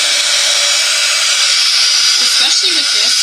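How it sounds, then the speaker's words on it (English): A craft heat tool blows hot air near a Chalk Couture transfer with a loud, steady hiss, running without pause from start to finish. "So now I'm going to use my heat tool."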